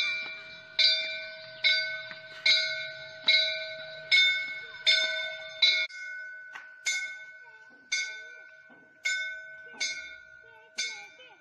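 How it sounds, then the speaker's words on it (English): The Great Bell of Peking in China is struck again and again in a steady, even rhythm, about a dozen clear ringing strikes with bright lingering tones, loud and close, with no voices. "Representing you, the Great Bell of Peking,"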